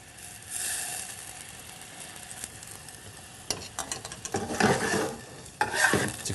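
White wine and lemon juice hiss over shallots in a pan, a quiet sizzle that flares into louder bursts of stirring and scraping in the latter half, with no voices.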